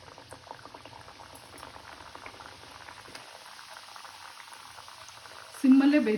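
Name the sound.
deep frying badam puri in hot oil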